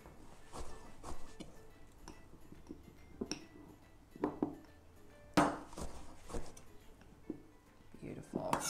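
Repeated knife chops through canned artichoke hearts on a cutting board, irregular and close, with occasional light clinks, while a person talks in between.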